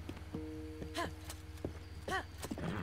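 A horse's hooves clopping at a run in Zelda: Breath of the Wild, rhythmic near footfalls with a quiet game tone and faint chirps over them.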